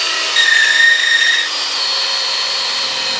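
Power drill boring into a bowling ball, a steady high whine with a brief louder grinding burst early on before settling into an even drone, close and loud with no talk.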